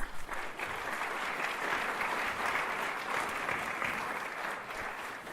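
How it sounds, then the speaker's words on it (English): A round of applause for a panel of speakers at a student services event, with steady, even clapping from a room full of people, heard softly and at some distance, with no talking over it. "Let's give them a round of applause."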